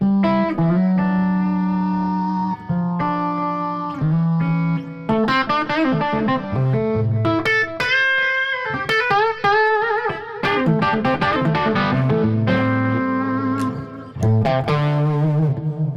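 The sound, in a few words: boost drive pedal through guitar amps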